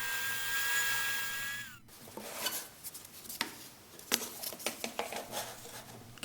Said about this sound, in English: cut in a little over halfway, stop the saw, and then flip the piece around